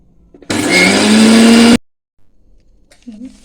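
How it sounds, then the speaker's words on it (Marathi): A mixer grinder grinding rice and lentils with green chillies and ginger whirs loudly for about a second and a half, a steady high-pitched grinding that cuts off abruptly, followed by near silence. "हे आता आपण मिक्सरला वाटून घेऊया"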